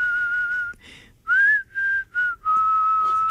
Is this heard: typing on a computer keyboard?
no